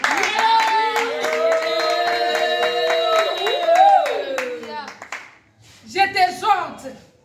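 A congregation claps in a steady, rhythmic beat during a prayer of intercession, mostly under a loud singing or chanting voice, with a short pause before more voices and claps return.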